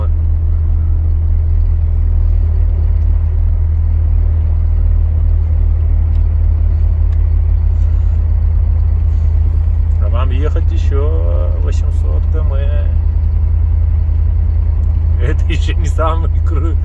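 A car engine drones loudly and steadily as it climbs slowly up a steep hill, a heavy, unbroken low rumble, with people talking over it in the later part.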